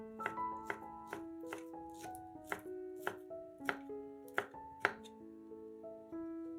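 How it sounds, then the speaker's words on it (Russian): A knife chopping sausage into cubes on a board, about a dozen crisp, evenly spaced cuts close up, with soft background music underneath. "50 грамм колбасы нарезаем кубиками."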